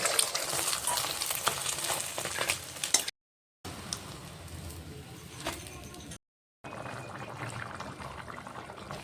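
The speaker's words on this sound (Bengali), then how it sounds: "অমলেটটা ভেজে নিচ্ছি।" An egg omelette with soybean crackles and sizzles in hot oil, loud and close, with stirring scrapes and two brief silent gaps splitting the frying into three stretches.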